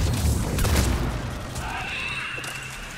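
A missile explodes in a Mass Effect 3 multiplayer match, a low rumbling boom that fades into gunfire and battle noise while a player talks over it.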